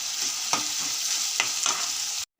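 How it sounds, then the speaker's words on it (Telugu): Chopped onions and green chillies frying in hot oil in a kadai, a steady soft sizzle with a few scraping stirs of a spoon, then a sudden cut to silence at the end. "కట్ చేసుకున్న ఉల్లిపాయలు, పచ్చిమిరపకాయలు వేసుకుంటున్నాను"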